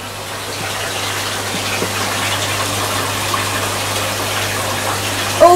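Water runs steadily while topping up a small koi fry pond after a water change, a continuous moderately loud gushing and splashing with no talk.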